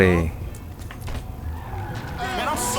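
A Wuling Air car is driven in a video game, its steady engine hum broken by tire skids and squeals, with a voice heard at times over it.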